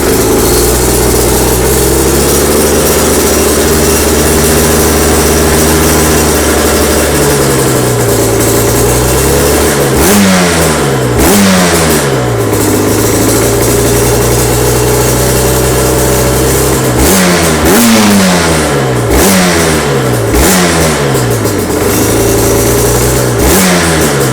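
A 2011 Aprilia RS125 two-stroke motorcycle engine, loud and close, idles steadily and then blips through repeated sharp revs in bursts, falling back to idle between them.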